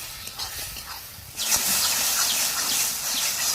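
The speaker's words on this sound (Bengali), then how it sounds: "এখন আমি নেড়ে দেবো" Masala fried with chopped tomato for a boal fish curry starts with quiet stirring, then bursts into a loud, continuous hissing sizzle as the spatula turns it in the hot pan.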